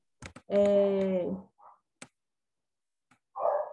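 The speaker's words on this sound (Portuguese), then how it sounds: "aí ela late lá na rua, a outra late aqui" Dogs barking, one out in the street and another close by: a loud, drawn-out bark with a whine right up front, then a few short, quieter barks and yips spaced out over a few seconds.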